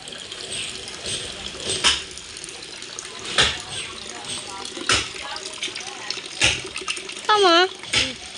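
Tap water splashes and runs steadily into a container in a domestic kitchen, with clattering handling noises and a sharp metallic squeak near the end, no voices heard.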